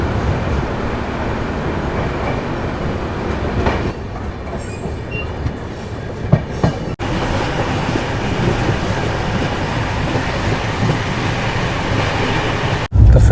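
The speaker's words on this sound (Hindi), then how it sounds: "तो खैर डॉट ऑन टाइम अपनी ट्रेन डिपार्ट कर रही है किशनगढ़" Inside the Ajmer-Sealdah SF Express as it departs Kishangarh station, a loud steady rumble of wheels on rails continues with rattling carriages and occasional clanks and squeals, and no talk.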